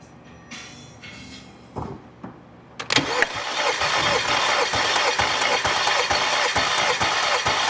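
A 2010 Volkswagen Tiguan 2.0 TSI with a no-start fault cranks for a compression test. A few faint clicks lead into a loud, steady, rhythmic starter churning that keeps going for about five seconds without the engine catching.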